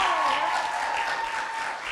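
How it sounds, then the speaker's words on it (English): Audience applause at a high school performing arts awards night, steady dense clapping filling the room for two seconds, with a sustained tone and faint voices underneath. "Give them a big round of applause."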